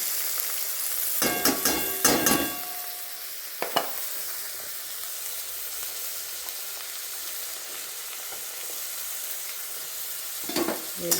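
Chopped tomatoes sautéing with browned onions in a pan, a steady close sizzle broken by clattering spoon stirs near the start and again at the end, with no talking.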